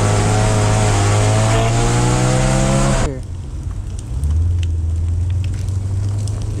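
Motorcycle on the Tail of the Dragon mountain road: a loud, near engine holds a rising pitch as it passes, then cuts off abruptly and another engine drones on at lower pitch.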